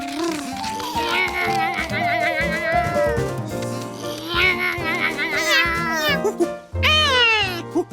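Cartoon cat meows repeatedly in a Curious George scene, loud rising and falling calls over a busy musical score, with a final strong meow near the end.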